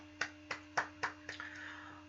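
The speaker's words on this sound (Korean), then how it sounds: "부활하신 예수님께 우리 다시 한번 박수했으면 좋겠습니다" A Sunday school congregation at an Easter worship service claps in unison, about five even, crisp claps. Scattered softer clapping trails off after them in a quiet room.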